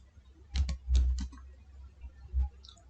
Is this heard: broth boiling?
no